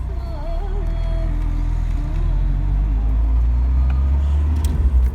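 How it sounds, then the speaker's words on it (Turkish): A 1990 Tofaş Şahin car drives along with a low, rumbling engine drone that rises and falls through gear shifts, heard from inside the cabin with road noise. "Şu, şu, şu vites geçişlerine bak ya."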